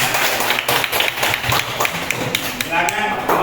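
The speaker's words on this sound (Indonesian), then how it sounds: "Beri tepuk tangan dong." Students in a classroom clap together in a brief, uneven round of applause, with overlapping claps and light thumps throughout, fairly close.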